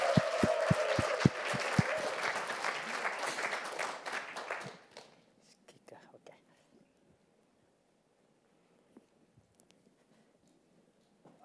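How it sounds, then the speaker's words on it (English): Audience applause for the first pitcher at an innovation fellowship pitch final for Thailand and Vietnam: dense clapping for about four and a half seconds, then cutting off to near silence with a few faint scattered sounds. "Please, fellows, give a big round of applause for our first pitcher."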